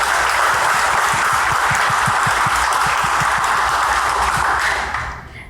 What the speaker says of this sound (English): Can I have one more round of applause for our amazing panelists?